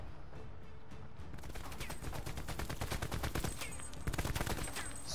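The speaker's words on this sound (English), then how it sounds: "Stop shooting, you idiot!" Dense automatic gunfire rattles in the video game Prop Hunt, with rapid continuous bursts of loud shots that last throughout.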